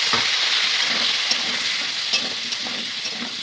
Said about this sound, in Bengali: আলু আর কুয়াশা আমি একসাথে ভেজে নেব।